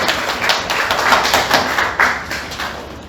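A congregation claps during a church worship service, brisk overlapping hand claps forming a lively patter that peaks midway and tapers toward the end.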